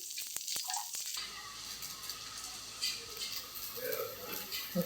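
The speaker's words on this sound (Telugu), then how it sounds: "మన దోశ కాలుతుందండి" Rava dosa batter sizzles steadily in hot oil on a pan, a close continuous frying hiss after a few quieter clicks at the start.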